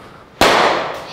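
A single sharp crack of a cricket bat striking the ball during batting practice, loud and close, followed by a short fading ring with no talk.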